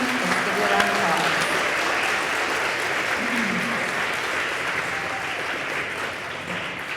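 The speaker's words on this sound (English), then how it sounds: "let's give you a round of applause" An audience at an 8th grade promotion ceremony gives a long round of applause, a steady, even roar of many hands clapping that holds for several seconds and slowly fades a little toward the end.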